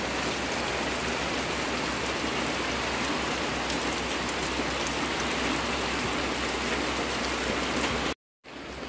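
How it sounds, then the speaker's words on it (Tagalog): Heavy rain pours down steadily on a house whose roof leaks badly, a dense, even hiss of water filling the scene without a break until a brief cut near the end. "Sobrang lakas po ng tulo po dun sa mga bubong po nila."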